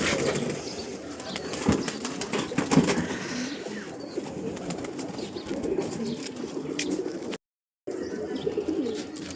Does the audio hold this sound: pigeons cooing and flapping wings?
yes